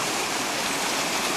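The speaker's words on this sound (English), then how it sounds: "As you can see, this river is full." A full river in Alaska rushes past in a steady, loud, broadband roar of moving water, close and continuous with no breaks and no talking.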